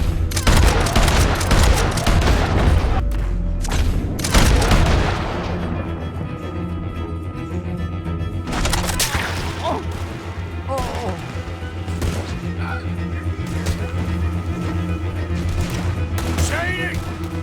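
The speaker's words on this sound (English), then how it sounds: "They're shooting at us!" Gunfire in the video game Red Dead crackles in dense volleys at the start, then thins to scattered shots under ongoing game noise, with people talking over it.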